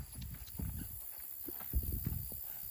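Hooves of a gaited Tennessee Walker horse thud softly on the ground in a quick, uneven rhythm, faint and somewhat muffled, with low background noise and no clear talking.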